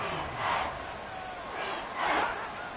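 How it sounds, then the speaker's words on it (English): Large football crowd roaring at Arrowhead Stadium, a broad wash of cheering that swells twice and stays loud throughout. "The Arrowhead crowd in full roar."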